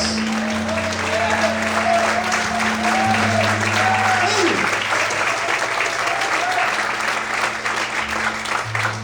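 A church congregation claps steadily and loudly for several seconds while a sustained organ-like tone and a voice continue underneath.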